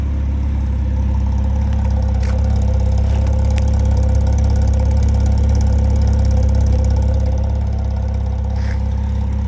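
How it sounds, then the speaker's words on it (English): A Porsche 987 S exhaust burbles at a steady idle, a deep, even rumble close by with no talking. "The exhaust sounds really cool."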